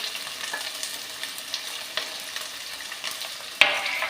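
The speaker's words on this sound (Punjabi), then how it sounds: "ਤੇਲ ਆਪਣਾ ਜੀ ਹੋ ਚੁੱਕਿਆ ਗਰਮ ਹੁਣ ਆਪਾਂ ਪਾ ਦਾਂਗੇ ਜੀ ਜੀਰਾ ਨਾਲੇ ਆਪਾਂ ਪਾ ਦਾਂਗੇ ਜੀ ਲੰਬੇ ਲੰਬੇ ਕੱਟੇ ਹੋਏ ਪਿਆਜ਼" Cumin and long-sliced onions fry in hot oil for a pumpkin sabzi, giving a steady close sizzle with faint stirring taps and a sharp clink near the end.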